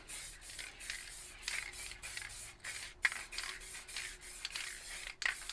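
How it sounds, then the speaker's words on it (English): A high-pressure spray paint can hisses in a run of short bursts, close up and fairly quiet, each spray separated by brief pauses and faint clicks of the cap. "the valve system is pushing the paint out faster, you can hear it"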